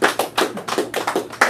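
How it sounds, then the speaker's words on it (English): A graduation ceremony audience claps in an irregular, fairly close patter of hand claps, brief and lively with no voices over it. "You can all clap. Yeah, we can clap."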